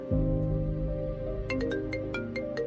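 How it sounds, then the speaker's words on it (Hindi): A phone ringtone signals an incoming video call at home at night, a steady tonal chime with a short melodic phrase of bright repeated notes joining partway through, played alone and fairly loud. "आखिर रात को घर पे नील का वीडियो कॉल आया।"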